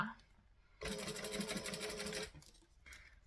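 A sewing machine top stitches a bag strap in a single run of about a second and a half, a rapid steady mechanical whirring that starts and stops abruptly, with faint sounds before and after.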